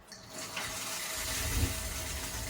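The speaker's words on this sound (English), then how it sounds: "I'm going to turn on this water really quick, and you should be able to kind of hear the pilot light kind of flare up" Water from a tap in a Japanese apartment runs with a steady broadband rush as a gas hot water heater kicks in, a low rumbling flare of the pilot burner building underneath after the first half second and holding to the end.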